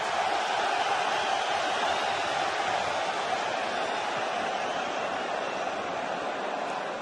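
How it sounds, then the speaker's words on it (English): A packed stadium crowd at a Paris Saint-Germain versus Olympique de Marseille match in the 2012-2013 season roars for David Beckham, a dense, even wall of noise that holds steady throughout. "Listen to the roar for David Beckham."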